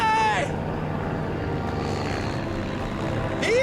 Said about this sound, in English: But as the plane banks away, David realizes he's invisible from the air.